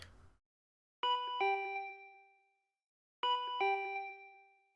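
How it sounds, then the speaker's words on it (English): Doorbell in the video game Danganronpa V3: Killing Harmony rings twice, each ring a clean two-tone ding-dong that hangs and fades, in otherwise quiet surroundings. "The doorbell."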